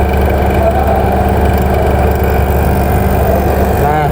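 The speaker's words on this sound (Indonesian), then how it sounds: "ini mesin vakum sudah bekerja tandanya" Vacuum pump running while a car's air conditioning is serviced, a steady loud mechanical hum with constant tonal drone, close and unbroken throughout.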